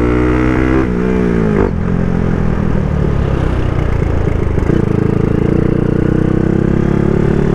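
A motorcycle engine drones steadily and loudly while riding, with pitch shifting as it accelerates, wind noise mixed in.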